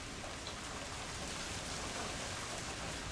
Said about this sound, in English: It's light rain right now.